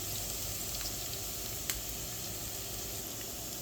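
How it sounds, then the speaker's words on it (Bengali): Chopped onions sizzle in hot oil in a pan, a soft, steady frying hiss with one brief clink, quiet and continuous with no talking. "এর সাথে আমরা পেঁয়াজ কুচিটা দিয়ে দিই। ভেজে নিচ্ছি"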